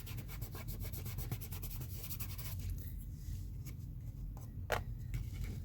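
Teal ink rubbed onto paper for a mixed-media junk journal house, a close, quiet scrubbing with quick rhythmic strokes that slow into a few scattered rubs and taps.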